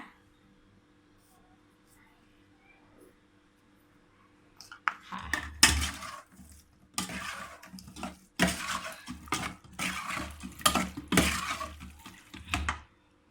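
Pork larb is stirred with roasted rice in a bowl: after a few near-silent seconds, a spoon clatters and scrapes against the bowl in busy, uneven bursts close by.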